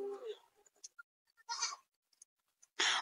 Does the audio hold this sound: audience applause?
no